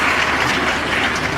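Audience at a university graduation ceremony at KNUST clapping, a short burst of dense continuous applause.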